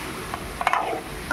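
Chicken curry with garam masala stirred in a pan, a few short scraping strokes of a spoon against the metal over a soft sizzle, close and fairly quiet.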